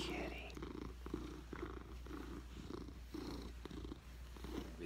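A cat purrs close and steady in a rhythmic pulsing loop, each breath a soft rumbling cycle, with faint whispery sounds over it.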